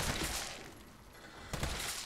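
Gunfire in the video game Resident Evil 3, with a dense burst of shots near the start and another sharp volley around the one-and-a-half-second mark over a steady noisy game background.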